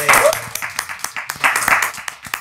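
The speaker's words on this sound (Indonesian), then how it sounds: "Tepuk tangan dulu." A studio audience claps briefly in a quick burst of mixed handclaps, close and lively, with some speech mixed in beneath.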